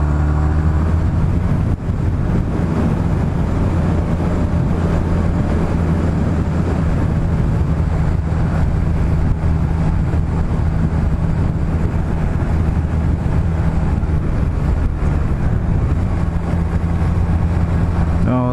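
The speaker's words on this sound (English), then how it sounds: "So much traffic." Busy Sunday road traffic passing a stationary bike on a test road, a continuous loud rumble of vehicles and engine hum with wind buffeting the microphone, steady for the whole stretch.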